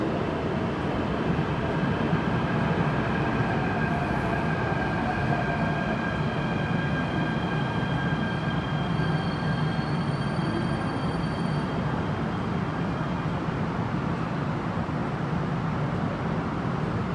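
A steady loud rumble of a metro train fills the platform at Quarry Bay Station, Hong Kong, with a faint whining tone and a chime rising over the constant roar.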